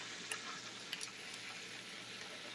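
Fresh chicken wings frying in peanut oil, a steady close crackling sizzle with a few sharper pops, heard alone without talk.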